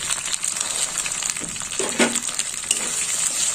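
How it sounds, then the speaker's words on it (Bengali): Tomato frying in a pan with a chilli and turmeric spice paste, a continuous bright sizzle with occasional stirring scrapes, moderately close and without talk. "টমেটোটা একটু কষা হবে এই মশলার সাথে।"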